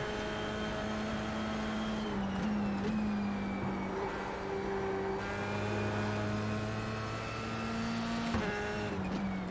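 Formula 3 race car engine in iRacing, a loud steady tonal drone that climbs and drops in pitch through gear changes and shifts, close and continuous throughout with no talking.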